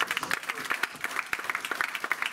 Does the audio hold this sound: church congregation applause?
yes